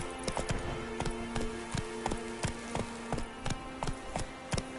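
Roach the horse gallops in The Witcher 3, a steady rhythmic clip-clop of hooves at moderate volume over a continuous bed of game ambience.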